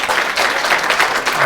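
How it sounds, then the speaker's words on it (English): A lecture audience applauds steadily, a dense wash of clapping that holds at an even level throughout. "let's give one more round of applause to Dr. Fornieri"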